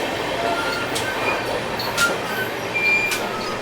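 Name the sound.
Amarkantak Express passenger train running between Katni and Itarsi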